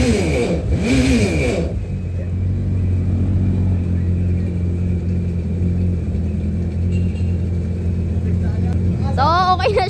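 A freshly repaired jet ski engine running with a steady low rumbling drone, loud and close, after a short burst of talk at the start and a voice again near the end.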